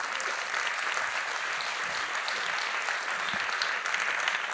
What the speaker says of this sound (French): Vous pouvez les applaudir d'avance.